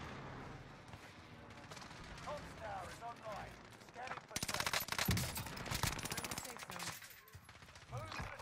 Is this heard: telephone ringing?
no